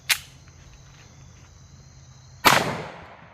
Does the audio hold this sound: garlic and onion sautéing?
no